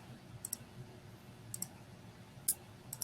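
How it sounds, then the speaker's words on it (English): A few light keyboard key presses sound quietly in a hushed room: Control, Shift and M tapped one after another, each a short sharp click separated by pauses of about a second. "The Control key, hold it down, Shift key, hold it down, and the M key."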